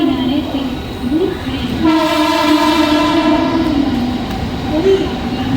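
At an Indian railway station platform, a fast train passing through blows a sustained, close horn over a rolling rail rumble, with voices and platform noise in the background.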